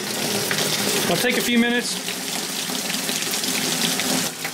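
Water drains steadily from household plumbing pipes with the supply and power shut off before a mixing valve installation, a continuous rushing flow under brief speech from a man nearby.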